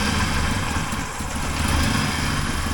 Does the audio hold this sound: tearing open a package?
no